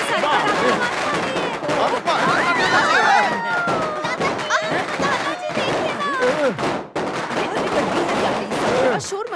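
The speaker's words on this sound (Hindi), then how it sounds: "अरे ये पटाखा का आवाज कैसा है?" A rapid, dense crackle of firecracker bursts pops and snaps continuously, loud and close, with voices shouting over it.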